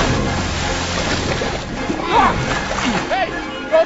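Someone splashes and treads water in icy water among broken ice, with short choppy sloshes under urgent shouting voices.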